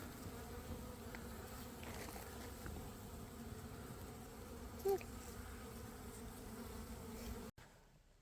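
Honeybees buzz around three opened hives during spring cleaning, a continuous low droning hum with individual bees passing close now and then, before a sudden cut near the end.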